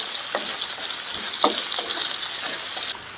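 Sliced onions and two slit green chillies sautéing in a pan for a beef liver curry, a steady bright sizzle with a few soft stirring scrapes, close and loud, no talking.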